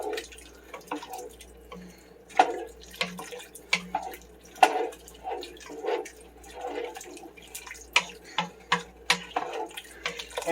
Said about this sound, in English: I'm going to go ahead and just rinse this out with a little bit of additional water.